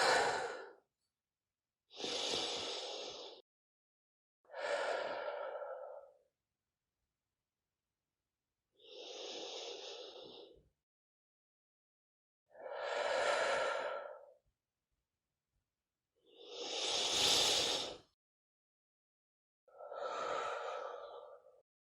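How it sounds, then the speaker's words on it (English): Seven slow, deep breaths in a calm, quiet setting, each a soft, airy swell lasting a second or two, separated by a few seconds of near silence. "And taking 3 deep breaths now."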